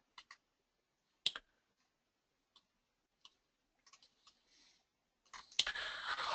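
Several sharp, isolated computer mouse clicks, right-clicks and clicks in quick pairs and singles, sound close and quiet, followed by a burst of brief rustling noise at the end.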